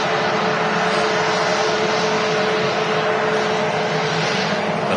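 An Express Boeing 737 MAX airliner arriving at Manchester Airport, its jet engines producing a loud, steady, broadband roar that stays constant throughout, with no voices.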